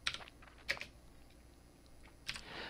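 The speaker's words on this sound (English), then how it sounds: "And we do that by typing in the list" Keys on a PC computer keyboard clatter while a disk command is entered to prepare a CompactFlash card for a Commodore Amiga 1200: a few quiet, separate bursts of clicks with short pauses between them, and no voices.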